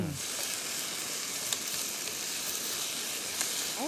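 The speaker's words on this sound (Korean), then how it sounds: "이렇게 해서 볶아줘요" Burdock, onion, scallion and garlic stir-fry in a pan with soy sauce, giving a steady close sizzle throughout, with a few faint clinks of the spatula and no talk.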